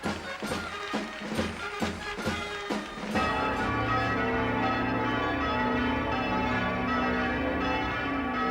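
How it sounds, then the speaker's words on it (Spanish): Church bells in Spain ring a general peal: quick, overlapping strikes give way to a sustained, ringing wash of bell tones that fills the recording. "El paso del día 18 al 19 se anuncia con repique general de campanas en todas las iglesias de la nación."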